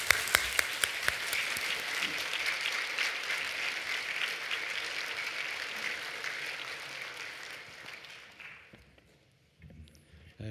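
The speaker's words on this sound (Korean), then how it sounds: "나오실 때 큰 박수로 환영해 주시기 바랍니다" A congregation at a church praise service gives a big round of applause to welcome a guest speaker; sustained clapping for about eight seconds, then fading out to near silence with a few faint knocks.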